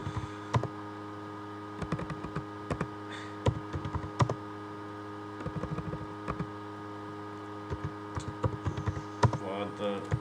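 Typing on a computer keyboard while filling in an online profile, with soft, irregular clusters of key taps over a steady electrical hum, quiet and close.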